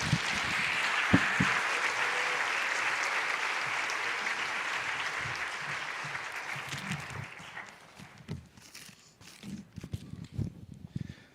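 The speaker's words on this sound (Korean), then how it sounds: "우리 환영의 박수로 목사님 맞이했으면 좋겠습니다" A church congregation applauds steadily to welcome a pastor, loud at first and gradually thinning into scattered claps and shuffling.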